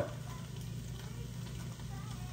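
Chorizo seasoned with salt and pepper sizzles in a skillet with a steady, even hiss of frying that holds constant throughout, moderately quiet and with no other sound over it.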